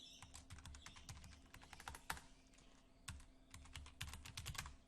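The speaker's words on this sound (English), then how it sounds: "for the assessment, we're going to just type in" Someone types on a computer keyboard while entering a course assessment name, with quick irregular clusters of close keystrokes and short pauses between them, heard alone.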